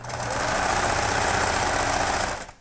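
A sewing machine stitching a strap onto small bunny-couple doll clothes, running in one continuous fast, loud whirring burst close up, then stopping abruptly.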